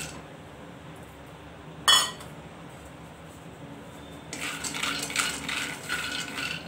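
Roasted sabudana scooped out of a pan: one sharp metallic clink, a short quiet pause, then a steady run of spoon scraping and rustling grains against the pan, near and moderately loud.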